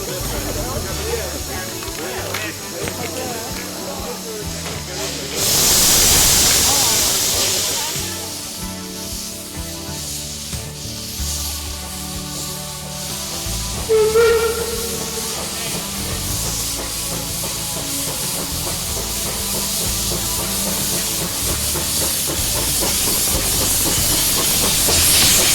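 Steam locomotive on a Victorian Christmas train at a heritage narrow-gauge railway, letting out a loud burst of hissing steam near, then a softer ongoing hiss with mechanical clanks and a short squeal, while someone narrates throughout.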